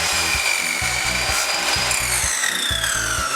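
A miter saw set to 45 degrees cuts through wood in a quick series of short, rhythmic rasping strokes, close and fairly loud, with a high whine running over the top.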